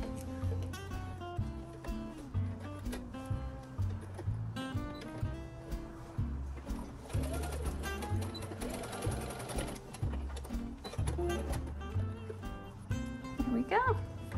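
Home sewing machine stitching across the folded-over raw end of fanny pack binding, a steady mechanical whir running close and continuous under a talking voice.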